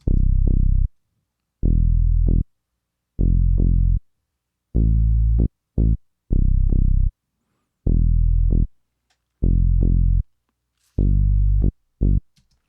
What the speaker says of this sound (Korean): 내장 신디사이저를 이용해서 무그 스타일 베이스를 만들어서 찍어봤어요.